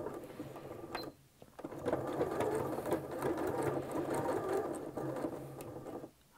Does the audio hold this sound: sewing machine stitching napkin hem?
yes